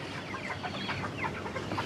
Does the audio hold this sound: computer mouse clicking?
no